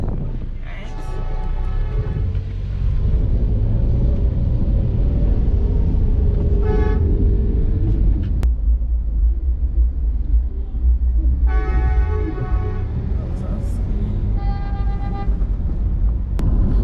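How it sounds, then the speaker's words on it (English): City bus on the Spanish Town Road route from the City to Waterhouse in Kingston, Jamaica: a constant loud engine rumble and road noise, broken by repeated vehicle horn toots, some long and sustained. "This is the bus."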